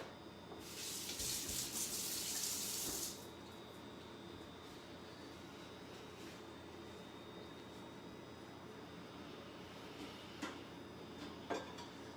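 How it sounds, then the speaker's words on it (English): Water runs from a kitchen tap for a few seconds as a close, bright gush during handwashing, then stops, leaving quiet room sound and a couple of small clinks. "Just going to wash my hands here."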